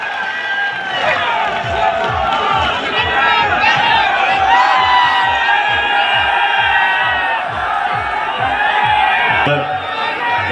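A large crowd at a Rajasthan political rally for a politician claps rhythmically and cheers loudly, with shouts and a voice over a PA rising above the steady beat of hands.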